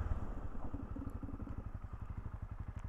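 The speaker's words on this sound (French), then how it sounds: "je vais faire un gros freinage maintenant" A 2018 Honda CB300R motorcycle brakes hard with ABS engaged, its close engine giving a steady, rapid pulsing throb over about three seconds, with no voices.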